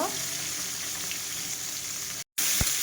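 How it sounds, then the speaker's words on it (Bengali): Potatoes frying in hot oil left over from frying fish, a steady close sizzle that drops out briefly near the end, then resumes with a short sharp crackle. "এই তেলে মাছ তুলে এবার তেলের মধ্যে আলুগুলো দেখো ভেজে দেবো"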